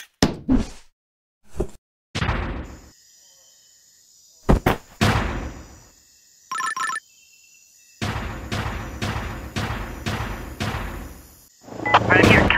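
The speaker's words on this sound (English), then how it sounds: "this cannon was actually built to fire humans" Cannon fire aimed at a rocket in a video game, sharp booming blasts and thuds in uneven bursts separated by silences, with a tonal chime and a stretch of dense rapid impacts toward the end.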